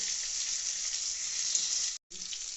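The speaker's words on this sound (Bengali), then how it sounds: "কেটে রাখা টমেটো দিয়ে দিলাম, দিয়ে একটু নেড়ে চেড়ে নেওয়া হচ্ছে" Chopped tomatoes and black cumin fry in a pan with a steady, close hiss and sizzle, briefly cut off by a short silent gap before the frying resumes.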